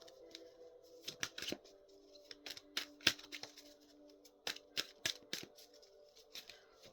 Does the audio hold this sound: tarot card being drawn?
yes